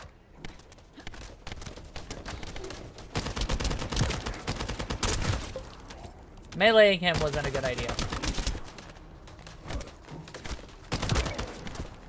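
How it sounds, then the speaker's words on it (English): Rapid bursts of gunfire from the video game The First Descendant, sharp repeated shots running through much of the stretch, with a player talking over the action and a brief swept tone in the middle. "That stopped the gunfire."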